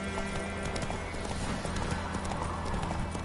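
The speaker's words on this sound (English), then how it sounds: "Come on, Roach" A horse gallops in The Witcher video game, with steady rhythmic hoofbeats close by over a dense game soundscape.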